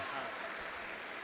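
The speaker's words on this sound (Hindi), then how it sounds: "एक बार जोरदार तालियों से, आइए संवेद तालियों से हम आभार व्यक्त करें।" A brief, faint wash of crowd applause at a public gathering, dense and even clapping heard from a distance for just over a second.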